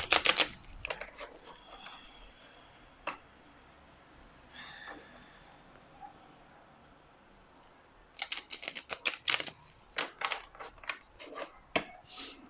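Oracle cards are shuffled by hand at close range in bursts of crisp riffling and slapping. The cards clatter quickly at the start, go quiet and scattered in the middle, then shuffle briskly again, with a brief murmur of voice in between.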